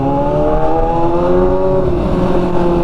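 A motorcycle engine revs hard and close, holding a loud, buzzing tone that climbs and settles over a few seconds.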